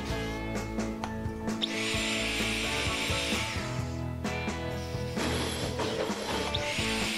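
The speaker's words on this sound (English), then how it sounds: "...200x speed threading now." A pipe threading die cuts threads on a pipe in sped-up footage, producing rapid ratcheting clicks and grinding metallic scrapes, with whining bursts of higher sound.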